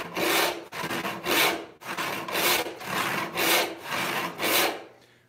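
A hand saw resaws an 8-inch-wide walnut board with steady rhythmic strokes, about eight rasping push-and-pull passes at an even pace, close and clear with no voices.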